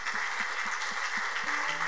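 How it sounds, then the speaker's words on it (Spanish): Congregation applause at a Spanish-language church service after a sermon, a steady, even wash of many hands clapping, moderately loud and continuous, with a few faint low sounds and a brief voice beneath it. "Denle un aplauso fuerte al Señor"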